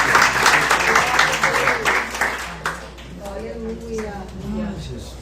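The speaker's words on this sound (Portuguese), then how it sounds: "Uma salva de palmas ao Senhor." Church congregation clapping, a burst of applause that fades after a few seconds while a voice speaks over it and continues talking afterward.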